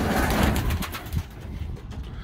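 Pigeons cooing inside a coop, a dense low murmur of overlapping coos that fills the space steadily throughout, close and fairly loud with a faint rustle on top.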